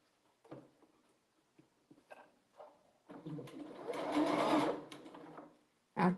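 A sewing machine stitches quilt block pieces, with a few short bursts and clicks and then a longer steady whirring run, close and fairly quiet in an indoor room.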